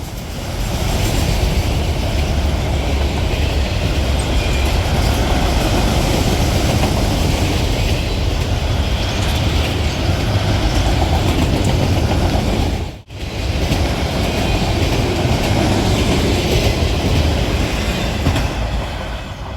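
A Norfolk Southern freight train led by AC44C6M locomotive 4044 rumbles past loudly and close, a sustained roar of wheels and cars with rhythmic clatter throughout.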